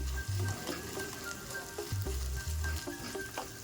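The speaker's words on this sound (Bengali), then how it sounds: "থেতো করে রাখা আদা, কুচনো লঙ্কা একটু নেড়ে নেব।" Crushed ginger and chopped chilli fry in hot oil with a steady sizzle, while a utensil knocks and scrapes the pan in several stirring strokes; a low hum sits underneath and nobody speaks.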